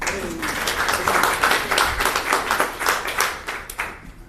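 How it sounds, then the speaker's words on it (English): A tech-ecosystem meetup audience applauds with a lively burst of clapping, individual claps standing out in the mix before it tapers off at the end. "Round of applause to Andrew."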